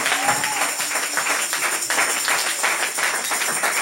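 A church congregation claps and cheers for Jesus during a worship service, a dense, steady wash of applause close by with voices calling out over it.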